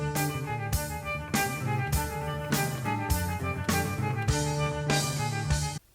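Electric guitar volume swells mimic a violin in a song, with loud repeated swelling chords rising and fading in a steady rhythm over a full band mix, then cutting off abruptly at the end.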